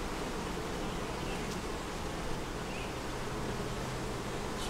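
Honey bees drone steadily around a hive packed with brood at the end of a honey flow, a dense continuous buzz with no talk over it.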